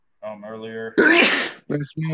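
A single loud, close sneeze bursts out in the middle of casual conversation between people at home, with talk before and right after it.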